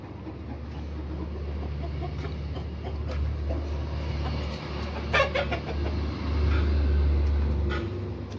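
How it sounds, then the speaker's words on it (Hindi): Chickens cluck intermittently at close range over a steady low rumble, with a few scattered louder squawks and no talking. "ये मुर्गे जो हैं असद ने रखे हुए इधर"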